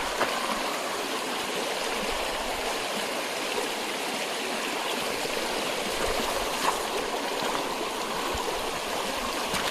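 A crystal-clear stream flows at a scenic outdoor spot, giving a continuous, even rushing and gurgling of water close by, with no voices.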